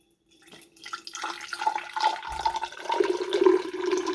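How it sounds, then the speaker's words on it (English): Prime drink poured into a Viking axe flask chalice, a steady liquid splash and trickle building over a few seconds, close and moderately loud, with no talking. "We're going to get my trusty York Viking axe flask."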